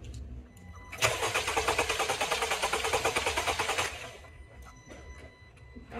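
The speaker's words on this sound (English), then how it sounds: "So we cranked the engine around a few revolutions" A gasoline engine is cranked over by its starter for a few revolutions without catching, a loud, rapid rhythmic chugging that lasts about three seconds before stopping, followed by faint clicks.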